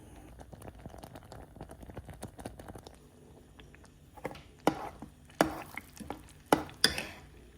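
A spoon stirs a thick, boiling sugar syrup mass for soft Kazakh sherbet over reduced heat, giving scattered soft taps and scrapes that grow into several sharper, louder knocks toward the end, with no talking.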